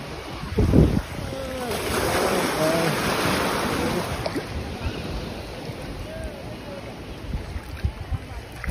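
Ocean waves wash in at Carmona Beach in South Goa, a continuous rush of surf with heavy wind buffeting the microphone and faint voices mixed in.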